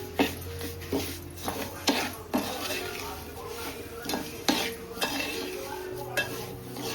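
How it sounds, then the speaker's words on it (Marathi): Ground rice stirred in hot ghee in a kitchen pan, with a spatula scraping and clinking against the metal in repeated sharp knocks over a low, steady background. "आता आपण ते मिक्सरले तांदूळ टाकू. ते टाकू थोडं परतून घ्या."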